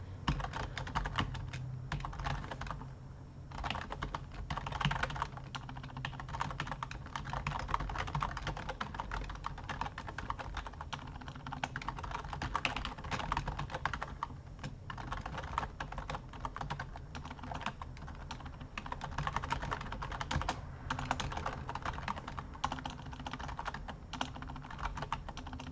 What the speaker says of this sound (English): I could type 300 words a minute if they're fucking correct.